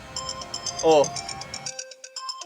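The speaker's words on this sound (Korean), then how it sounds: "오후 2시 딱 알람을 제가 해놨거든요 휴대폰에." A mobile phone alarm ringing with a repeating electronic melody in quick beeping tones, moderately loud, with a brief voice over it.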